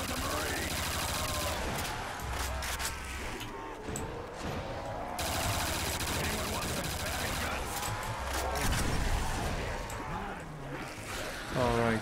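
A weapon fires rapidly in Call of Duty Zombies on the Rust map: dense, continuous bursts of gunfire go on for the whole stretch, mixed with game effects and short pauses, and a person talks over them.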